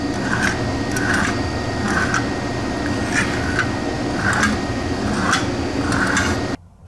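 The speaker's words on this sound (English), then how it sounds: "Quick polish with sandpaper roll and the roll-lock wheel." A sandpaper roll on a roll-lock wheel polishing metal parts of 1973 Trans Am seat frames gives a steady abrasive whir, with rhythmic scraping swells about once a second until it stops abruptly.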